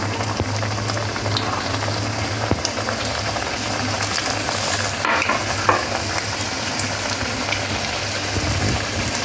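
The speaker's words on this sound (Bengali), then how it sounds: "এবারে গরম তেলের মধ্যে দিয়ে ডিপ ফ্রাই করে" Chicken strips deep frying in hot oil give a steady, dense sizzle and bubbling that runs throughout, close and fairly loud, with a low hum underneath and no voices.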